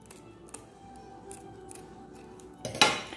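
Scissors snip through fabric lace trim for embroidery on a towel, giving a few faint clicks followed by one sharp, louder cut near the end, close by in a quiet room without speech.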